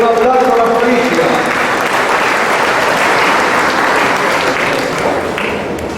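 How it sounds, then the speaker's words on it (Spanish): A church congregation at Sunday Mass claps in a dense, sustained round of applause that holds steady for several seconds and tapers slightly at the end. "un aplauso a la Policía"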